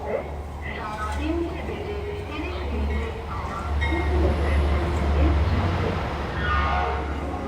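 Passenger train on the long Howrah to Rishikesh run, a steady low rumble of the moving carriages with continuous rail noise throughout, people talking over it.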